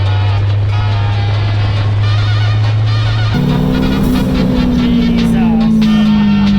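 An Exocet sports car at Miatas at the Gap 2019 drives with a loud, steady engine drone close by; partway through, the pitch jumps up sharply and then slowly sinks as the car keeps pulling.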